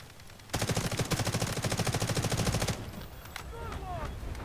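Rapid automatic gunfire in the Delta Force multiplayer video game, a loud two-second burst of evenly spaced shots, followed by fainter game sounds and a few distant pops.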